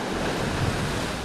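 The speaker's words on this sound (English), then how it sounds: "the waves are small and consistent" Small, steady ocean waves at Boston Bay near Port Antonio, Jamaica, a continuous loud wash of surf mixed with wind buffeting the microphone.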